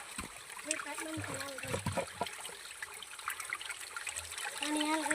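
Water trickling and splashing from a spring source as it is collected for drinking, a steady close gurgle running throughout while a person talks over it.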